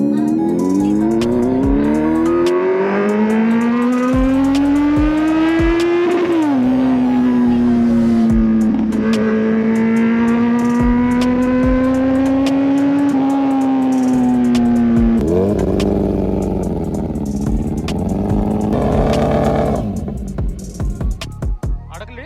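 A Kawasaki Z900 motorcycle with its wheel stuck in beach sand revs loudly and close, the engine note climbing and holding in long sustained pulls, then dropping in pitch near the end.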